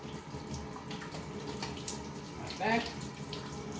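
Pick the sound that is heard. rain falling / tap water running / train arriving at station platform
tap water running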